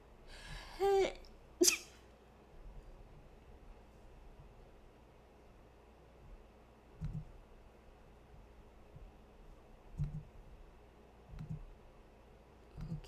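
A single sharp sneeze near the start, preceded by a quick intake of breath, then a quiet room with a few soft clicks.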